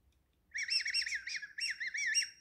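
A bird call whistle imitates a bird with bright, warbling trills in two quick phrases, close and clear against a silent background.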